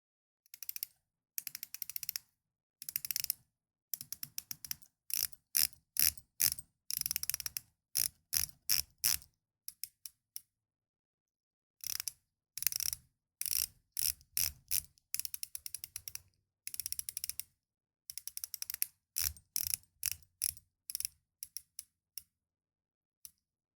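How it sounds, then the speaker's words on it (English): The bezel of a Seiko SRPL15 Mini Samurai watch ratchets close up in crisp, rapid clicking bursts, with short pauses between turns. "The bezel action is standard for a Seiko, and here's how it sounds."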